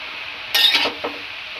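A quick scraping stir of a utensil through bottle gourd and salt in a pan, followed by a softer second scrape, over a steady cooking hiss.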